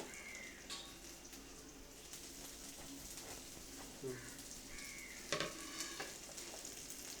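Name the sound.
kuzhi paniyaram batter cooking in paniyaram pan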